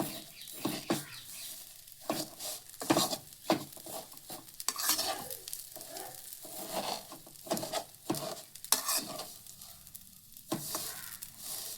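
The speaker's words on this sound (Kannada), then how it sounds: "ನೋಡಿ ಮೀಡಿಯಮ್ ಫ್ಲೇಮಲ್ಲಿ ಇದನ್ನು ಫ್ರೈ ಮಾಡ್ಕೋಬೇಕು." Vermicelli stirred and fried in ghee over a medium flame for a Ramadan festival dish, with a steady sizzle broken by repeated scraping and clinking strokes of a spoon against the pan, close and busy.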